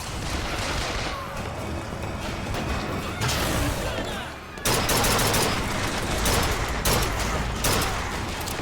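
Rapid bursts of gunfire in the first-person shooter Bioshock Infinite, dense volleys of shots with a sharp loud outbreak midway, set against game music and effects.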